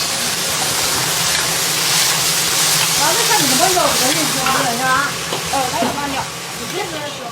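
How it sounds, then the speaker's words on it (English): Steady crackling sizzle of taro stems frying in hot oil, continuous and close, with faint chirpy sounds in the background. "She just threw them in with a bunch of oil, frying those up as well."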